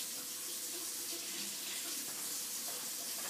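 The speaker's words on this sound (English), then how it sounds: "I run the sink just to get it to where it's lukewarm" A kitchen sink tap runs continuously, a steady, soft hiss of flowing water with no breaks and no voices.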